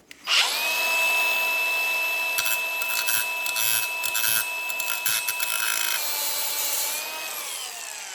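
A power drill whines steadily at high pitch while removing an ignition coil from an old Lawn Chief tractor, with rattling bursts as it bites and then a slowing wind-down near the end.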